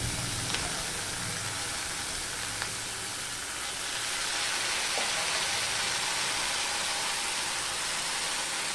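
Cooked dal khichuri tipped into a hot vegetarian tempering in a pan sizzles in a broad, steady hiss that holds evenly throughout, moderately loud and close, with faint clinks above it.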